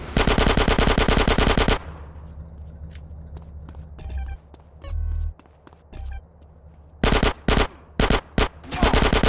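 Rapid machine gun bursts in GTA: San Andreas, loud and close, firing in a long opening burst and then in several short sharp volleys near the end, with a few thumps and faint footsteps between.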